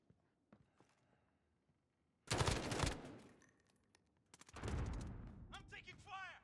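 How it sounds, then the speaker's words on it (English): Gunfire in Call of Duty: Modern Warfare, two loud dense bursts of rapid shots, the first around the middle and a longer one toward the end, close, with quiet scattered sounds between. "I'm taking fire!"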